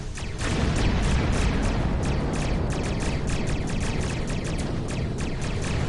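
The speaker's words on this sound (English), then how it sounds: "Fire the cannons." Starship cannons fire in the Star Trek Online space combat game, a loud, rapid, continuous barrage of booming shots layered over a dense rumbling roar, heard alone without talk.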